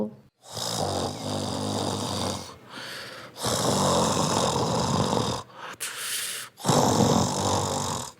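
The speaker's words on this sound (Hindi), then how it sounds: "वो तो ऐसे खर्राटे ले रहा था जैसे घोड़े बेचकर सोया हो।" Loud, exaggerated cartoon snoring from a tree: long rasping inhales and wheezy exhales repeating in a slow rhythm, with brief silent pauses between breaths.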